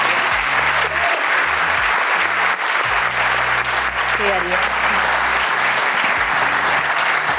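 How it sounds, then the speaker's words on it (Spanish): Audience applause fills the room for a group of Argentine public university students, steady and dense throughout, with a brief spoken reply heard over it. "Eso se merece un aplauso."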